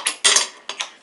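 A skateboard kickflip on flat ground: a quick sharp clack of the tail, then a louder rattling slap as the board lands, followed by a lighter tap, all close and with no voices.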